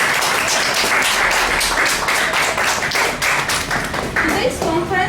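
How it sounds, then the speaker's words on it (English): A university conference audience claps to welcome a speaker, a loud run of distinct hand claps that thins toward the end, with voices over it. "Yes, give her a big applause."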